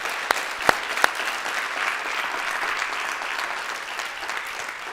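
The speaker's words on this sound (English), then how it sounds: "please give our faculty staff a round of applause" A steady, full round of applause from an audience at a college's annual state-of-the-college address, honoring faculty and staff. It opens with a few sharp, close claps, then settles into an even, sustained clapping crowd with no speech.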